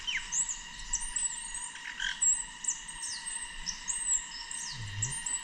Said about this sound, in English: Warbling white-eyed.